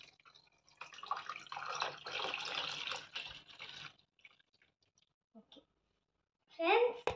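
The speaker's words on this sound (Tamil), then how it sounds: "அதனால நாங்கள் இன்னொரு சம்பு ஊற்றிக்கிறோம்." Water pours steadily from a small vessel into a cooking pot for about three seconds, a splashy rush at moderate volume that then falls quiet, followed by a few faint drips and a brief spoken voice.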